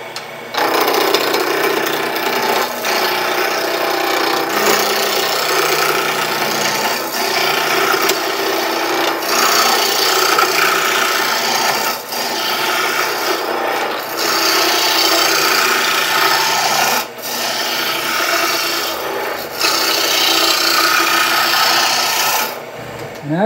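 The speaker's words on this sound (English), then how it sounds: "I'm gonna take this from its round position to a round position, simply roughing it with the roughing gouge." A roughing gouge roughing a wood blank to round on a lathe gives a continuous loud scraping, rasping cut for over twenty seconds, steady with a few brief dips where the tool lifts.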